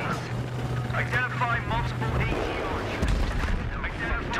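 Battlefield 3 combat with booming explosions, whizzing rockets and bursts of Vulcan cannon gunfire, rumbling through a dense battle din over a steady low engine drone.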